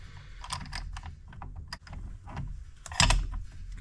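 Metal nut threaded onto an engine puller while assembling a Honda CR250 engine, heard as small close clicky taps and rattles with a louder clank near the end.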